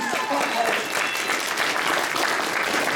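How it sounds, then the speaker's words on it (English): An audience at the closing ceremonies of the Vanhoover Pony Expo 2025 claps warmly, a dense, sustained round of applause from a crowd, with voices mixed faintly into the clatter. "Round of applause for Brooke"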